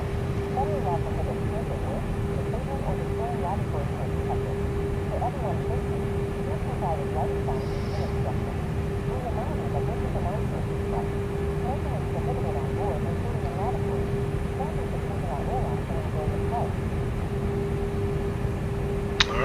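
Airbus A330-900 engines drone steadily while taxiing at Frankfurt in Microsoft Flight Simulator 2024, a continuous low rumble with a faint tonal whine, even and unbroken throughout.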